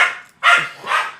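A dog barks twice in quick succession, close and fairly loud, in a home kitchen setting with no talking over it.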